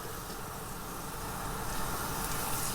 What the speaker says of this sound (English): we can just hear the sound of the fish hitting the pan